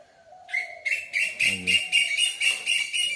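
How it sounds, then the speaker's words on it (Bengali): A bird calls on a winter morning in the Sundarbans with a repeated series of bright, clear chirps in a steady rhythm, loud against a quiet background. "পাখি ডাকছে, কি পাখি এটা?"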